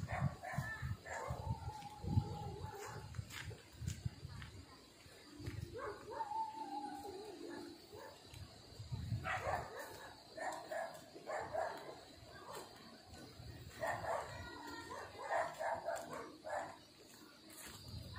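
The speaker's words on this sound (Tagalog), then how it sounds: "Daming aso, guys." Many dogs barking, yipping and whimpering outdoors in a rural Philippine province, bursts scattered through the whole stretch at moderate distance, with a person talking at times over them.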